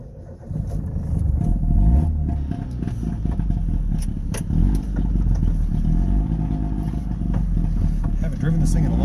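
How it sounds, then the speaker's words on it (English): Old, smoky two-stroke car driving, a loud close engine drone with rattling clatter that rises and falls as it pulls along. "This is usually the smokiest two-stroke car that I own"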